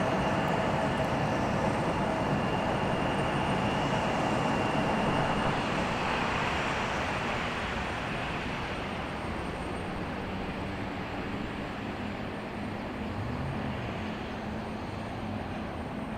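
An airliner departs Raleigh Durham airport, a steady distant roar of jet engines that slowly fades and softens over the span.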